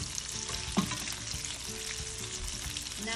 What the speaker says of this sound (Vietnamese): I'll cook a little bit longer in the pan.